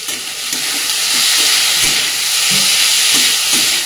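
Bitter gourd sizzles in a pan with onion, ginger and garlic, giving a loud, continuous frying hiss with faint stirring knocks underneath and no voices.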